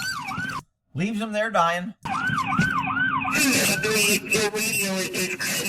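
A police car siren wails loudly nearby in rising and falling cycles and cuts off briefly. Someone talks over it, and a harsher burst of siren noise follows near the end.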